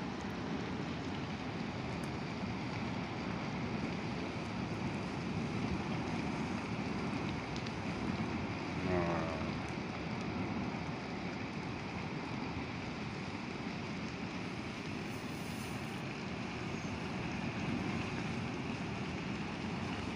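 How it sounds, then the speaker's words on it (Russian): Wind blows steadily outdoors near a wildfire, giving a constant low rushing noise with microphone buffeting and no speech. "туда ветер, как видишь, туда, слава богу,"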